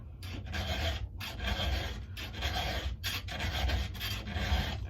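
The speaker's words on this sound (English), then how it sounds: "I file it till it's sharp." A file rasps across the chain teeth of a Stihl MS 441 chainsaw in repeated close strokes with short pauses between, steady and fairly loud, no talking.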